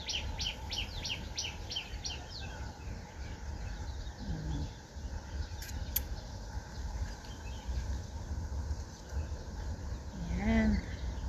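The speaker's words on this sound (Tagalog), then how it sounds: "Oh, may ibon pa dun sa baba oh." Small birds call among flowering shrubs and cherry blossoms outdoors, a short series of high chirps at the start and a few faint calls later over steady breezy background noise.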